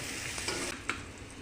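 Yardlong beans fry in a pan with a soft, constant sizzle and a couple of faint stirring scrapes, quiet and brief with no voices.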